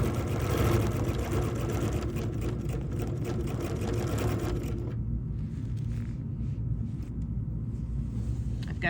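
A sewing machine stitches fabric in a continuous fast whirring run, close and steady, its tone shifting slightly about halfway through as the double stitching carries on.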